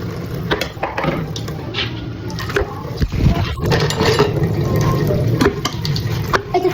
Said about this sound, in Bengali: আমি থালা বাসন ধুচ্ছি